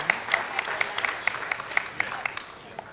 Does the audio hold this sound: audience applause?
yes